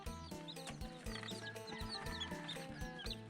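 Chicks in a village in the forested hills cheep softly. Their high peeps are faint and sit under a louder, rhythmic musical backing.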